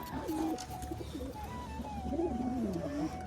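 Soft, throaty pigeon coos repeat under a steady low background hum, close and moderately loud, with no talking.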